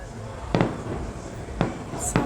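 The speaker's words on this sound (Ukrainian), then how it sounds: "Ксюша, це салют" Three firework blasts pop at uneven intervals, sharp and moderately distant, over a constant low background.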